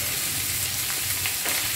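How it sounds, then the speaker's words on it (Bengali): Onions frying in a pan after salt is added, giving a steady, close sizzle and crackle that runs unbroken throughout, with no talking. "তার মধ্যে আমরা একটু নুন দিয়ে দেবো ভাজার সময়, ভাজার সময় সাথে পেঁয়াজটা তাড়াতাড়ি"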